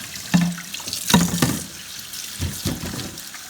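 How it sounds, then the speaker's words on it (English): Cold tap water runs and splashes into a sink while raw shrimp are rinsed, close and fairly loud, with a few clunks and thumps of handling over the steady flow. "I'm gonna rinse this water out."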